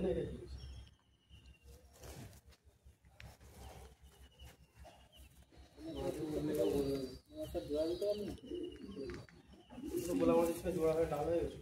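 Madrasi pigeons coo in a loft while someone talks over them, the soft throaty calls rising between his phrases with birds stirring nearby.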